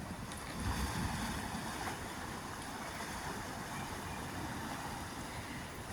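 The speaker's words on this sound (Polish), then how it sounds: "Fale biją o brzeg." Steady broadband rush of Black Sea waves washing onto the shore at Rezovo, Bulgaria, on a cloudy day after rain, with wind noise across the microphone and no voices.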